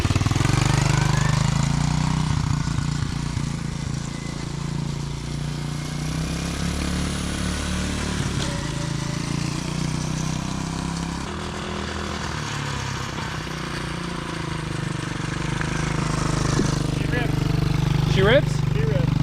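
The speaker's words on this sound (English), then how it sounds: "Is the sound I'm hearing the flywheel? The like whir?" Honda CT70 pit bike engine idling nearby, a steady low chugging rumble with a faint whirring flywheel hum, running under ongoing conversation.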